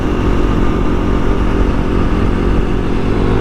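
Kawasaki Ninja 400 and Kawasaki KLX 300 motorcycles on knobby tires accelerate hard, a loud, steady mid-pitched engine roar held close and continuous for a few seconds, with no speech over it.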